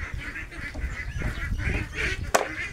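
Six-week-old ducks after feeding on kangkong and feed give off a cluster of nasal honking quacks, several overlapping calls close by with a sharp click near the end.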